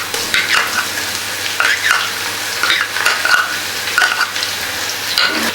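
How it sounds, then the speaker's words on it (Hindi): Ginger garlic paste fries with browned onions in a karahi, a steady sizzle broken by repeated stirring scrapes in a loose rhythm, close and fairly loud with no talk. "अदरक लहसुन का पेस्ट भुन चुका है"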